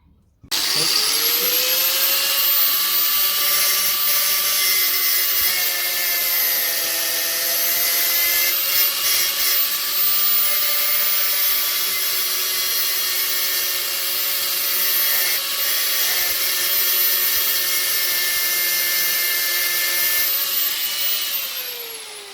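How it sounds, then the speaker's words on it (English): A power grinder grinding the pin heads off a motorcycle drive chain on a Lifan 125, a loud sustained whining grind with shifting pitch for about twenty seconds, no talk. "grind off the head on two of the pins"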